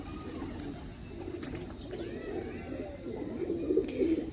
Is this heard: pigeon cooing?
yes